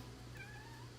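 Miso, a pet cat, gives one faint, drawn-out meow indoors, soft and somewhat distant over a low steady background hum.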